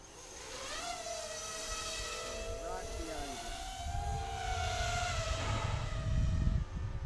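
A model aircraft engine whines in the air, its pitch sliding up and down as it passes and gradually growing louder and rougher toward the end, with people talking intermittently underneath.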